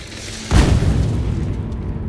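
A single deep gunpowder blast in a medieval war cinematic erupts suddenly, loud and close, with a booming low thud that fades into a long rumbling tail.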